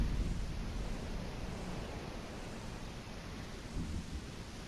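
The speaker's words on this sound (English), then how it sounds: "A storm?" Storm in the Kingdom Hearts video game with thunder and waves, a continuous broad rumbling roar of wind and surf that stays steady and fairly loud throughout, with no speech.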